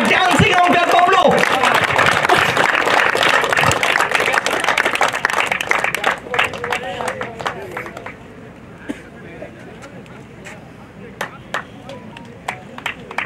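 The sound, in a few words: crowd applause welcoming the umpire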